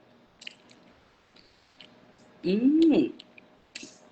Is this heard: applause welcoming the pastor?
no